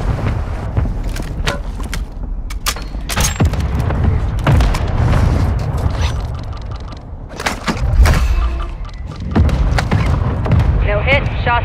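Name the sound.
mortar strike explosions in Warzone 2.0 video game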